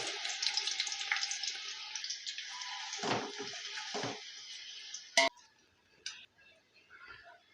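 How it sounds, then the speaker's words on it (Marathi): Chopped onions sizzle in hot oil for chicken biryani, a steady broadband fry with clattering stirs and scrapes of the utensil against the pan, fading to quieter sizzling near the end. "हा सगळा कांदा आपल्याला याच्यात घालायचा आणि कांदा मस्त तेलावर आता गोल्डन रंग येईपर्यंत फ्राय करून घ्यायचा"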